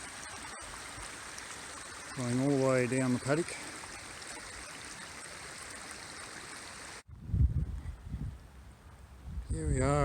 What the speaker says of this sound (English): There's the water coming out of the dam through the fence